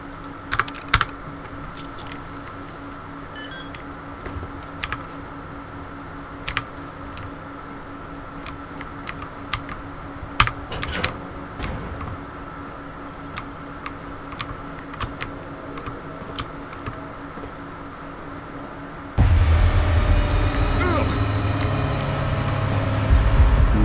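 A password is being typed on a terminal keyboard in the video game Fallout London: rapid, irregular key clicks over a steady hum, ending in a louder burst of game noise.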